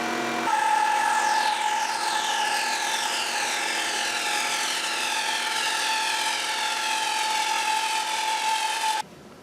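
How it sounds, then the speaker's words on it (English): A bandsaw blade slices steadily through a wood board for about eight seconds, giving a loud, continuous whine with a sustained tone and a rising, sweeping pitch, before the cut ends abruptly. "I'll be slicing the same board I sliced with the previous bandsaw blade"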